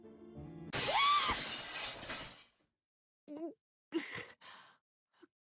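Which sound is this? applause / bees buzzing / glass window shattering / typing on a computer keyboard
glass window shattering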